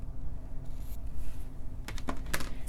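Scissors cut washi tape during paper box crafting, a few quick crisp snips near the end over a low background hum.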